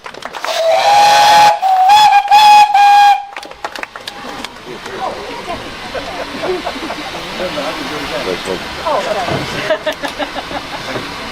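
A loud, steady whistle from a pannier tank steam locomotive blows for about three seconds, followed by a scattered crowd applauding over low background noise.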